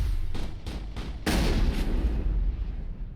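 Sniper gunfire in the video game Mass Effect on a frozen planet: three or four sharp, booming shots in quick succession, followed by a heavier blast that trails off into a long rumbling decay.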